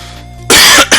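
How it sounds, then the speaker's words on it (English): A single loud cough bursts out close to the microphone, a sharp double hack after a moment of quiet room tone. "Excuse me, I had to cough."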